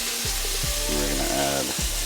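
Butter sizzling and frying steadily in a pan with sprigs of rosemary and thyme, a continuous close crackle with a few soft bumps and a brief tonal hum underneath, no talking.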